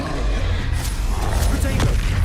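Incendio fire spell cast in the Hogwarts Legacy video game, a steady, loud roaring whoosh with low rumble and crackling bursts running throughout, with spoken voices faintly mixed in.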